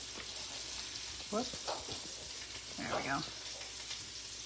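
Peppers and onions sizzle in olive oil in a grill pan, a steady close frying hiss with brief stirring bursts, and a voice speaks briefly over it.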